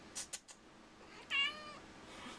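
An excited house cat gives a single clear meow after a few short taps or clicks, fairly close but soft against a quiet indoor room.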